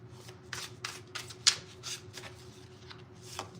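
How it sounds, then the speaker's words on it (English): A deck of tarot cards being shuffled by hand, with a series of soft riffling bursts spaced about every half second and one sharper snap partway through, all close and quiet over a faint steady hum. "I want to pull another card from this deck."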